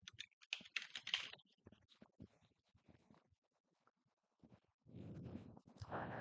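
Quick, light clicking of typing on a computer keyboard, entering an expression into the Desmos graphing calculator, in short clustered bursts with pauses, faint and close.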